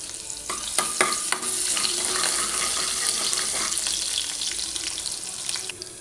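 Whole spices and garlic frying in a pan, a bright crackling sizzle with sharp pops and a few spoon clinks early on, steady and close with no talking.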